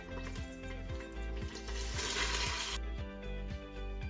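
Blended onions hit hot oil in a pan for a Pakistani keema aloo mince and potato curry, setting off a soft, steady sizzle that swells briefly midway, over a faint rhythmic background beat.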